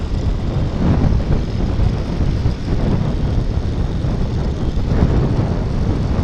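Cool wind rushes past while riding on the road from Chennai to Vellore, producing a loud, continuous low buffeting roar that lasts throughout without any talk.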